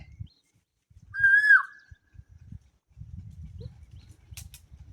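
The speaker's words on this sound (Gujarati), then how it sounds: "મિત્રો જોઈ લ્યો કોયલ બોલે" A single koel calls once nearby, a clear rising whistled note lasting about half a second, heard alone over faint low background rumble and a few soft rustles.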